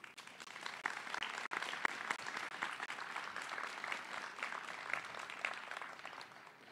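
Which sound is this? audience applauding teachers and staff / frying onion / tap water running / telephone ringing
audience applauding teachers and staff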